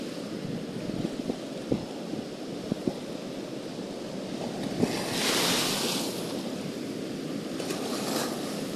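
Ocean waves surge and break at a rocky shoreline fishing spot that doubles as a surfing spot, a continuous wash of surf with gusting wind on the microphone and a bigger swell rolling in midway.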